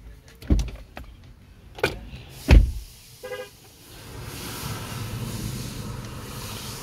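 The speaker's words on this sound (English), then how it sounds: "Open and close door." A 2020 Chevrolet Equinox door is opened and shut, with sharp thuds and latch clicks near the mic followed by a steady low hum from the vehicle afterward.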